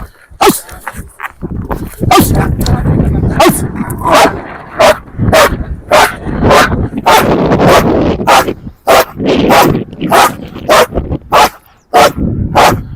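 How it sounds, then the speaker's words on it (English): A protective dog barks close and loud in a rapid, repeated series of sharp barks with short gaps, continuing for about thirteen seconds with occasional whimpering yips. "The dog was ready to protect me."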